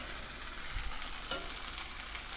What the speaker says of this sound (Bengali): একটু হালকা করে ফ্রাই করে নাও কিছুক্ষণ ফ্রাই হোক এটা